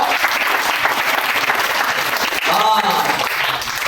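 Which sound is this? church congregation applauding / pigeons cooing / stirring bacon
church congregation applauding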